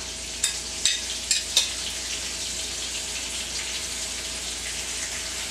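Beef fillets searing in butter in a hot pan, with a steady bright sizzle throughout and a few sharp clicks near the start as the meat goes in, close and fairly quiet.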